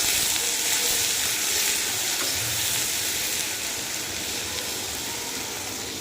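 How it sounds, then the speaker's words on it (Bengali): Onions and fish heads frying in hot oil, a loud, continuous sizzle and hiss close by, holding steady with slight stirring scrapes and no talking. "আর এইখানটায় এই যে মাছ বোনার জন্য পেঁয়াজ দিয়ে দিলাম।"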